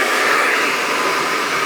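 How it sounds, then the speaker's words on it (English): A hair dryer blasts on high speed and high heat while blow drying hair, a loud steady rushing roar held close and unbroken throughout. "I'm going to use this hairdryer. I'm going to blast it all the way from the bottom to the top."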